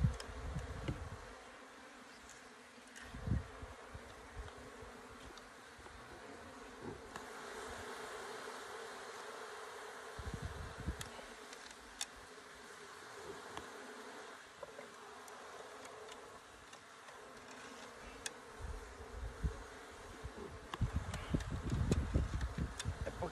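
Bees swarm around an open beehive, a constant close buzzing drone throughout, with occasional louder passes as individual bees fly near, plus faint handling knocks.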